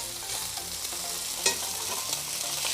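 Steak searing in canola oil in a hot pan, a loud continuous sizzle with crackling spits and a brief sharp pop near the middle, no talking.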